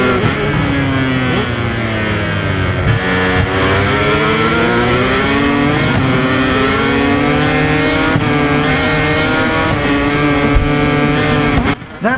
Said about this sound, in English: It's almost like a bee or a wasp is buzzing in the exhaust.